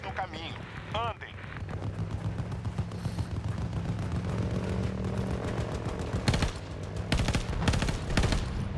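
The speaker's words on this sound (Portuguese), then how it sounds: "Olha os caras atirando, ó." Rifle fire rattles in a large-scale Battlefield 2042 battle, mostly distant and muffled under a steady combat din, with a few sharp nearby shots near the end and a voice talking over them.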